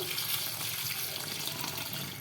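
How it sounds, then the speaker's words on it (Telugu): Tender tamarind leaves being washed under a running tap, with a steady, moderately quiet rush of water splashing into a sink, continuous and unbroken, no talking. "ముందుగా చిగురు అయితే కడుక్కున్నామండి ఒక రెండు సార్లు"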